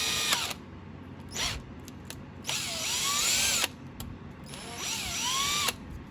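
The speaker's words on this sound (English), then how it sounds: "I'm gonna drill a hole in it." Power drill boring a hole in a plastic mirror mount piece for a car stereo install in a Camry, a few short whirring bursts followed by two longer high-pitched runs with the bit loading and easing.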